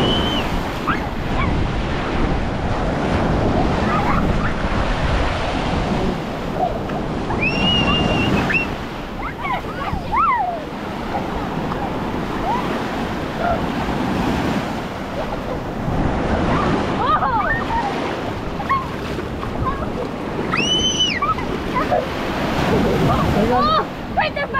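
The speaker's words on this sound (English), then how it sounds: "Big waves." Big ocean waves break and wash continuously on Panama City Beach, a steady roaring surf under wind buffeting the microphone, with faint voices at times.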